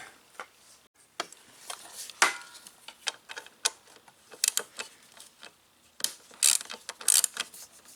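A ratchet wrench loosens 7 mm bolts on a Briggs and Stratton carburetor, clicking in quick close bursts of pawl ticks separated by short pauses as the bolts break free.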